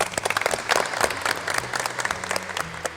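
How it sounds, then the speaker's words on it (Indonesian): A school classroom of automotive students claps together in a burst of close, lively applause that carries on unevenly for a few seconds, with faint voices mixed in. "Tepuk tangan untuk kita semua"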